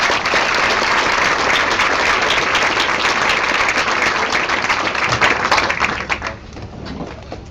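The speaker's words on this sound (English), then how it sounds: "please give a round of applause" A large crowd at a celebration of life in Long Beach applauds for the mayor, with sustained dense clapping holding steady for several seconds before thinning out and tapering off.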